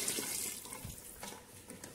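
Water pours from a glass into a pressure-cooker pot of beef biryani, a soft continuous splashing gurgle close by, with no talking.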